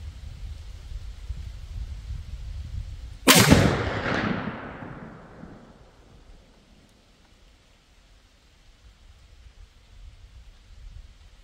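A single loud .50 caliber muzzleloader shot fired outdoors, a sharp blast followed by a long rolling boom that fades over several seconds into quiet.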